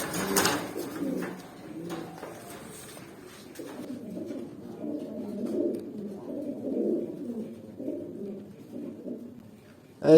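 Pigeon cooing close by, a run of soft low throaty coos repeating in gentle rolling phrases, with faint handling noises early on and a quiet background.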